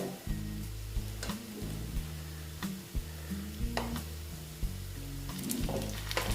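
Flattened pieces of food frying in a hot pan, a steady dense sizzle with repeated scraping stirs and clinks of a utensil against the pan, close and continuous throughout with no talking.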